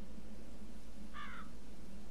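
A single crow caw, a short harsh call of a few notes, rings out over a steady low ambient drone in the dark woods of the horror game Darkness Within.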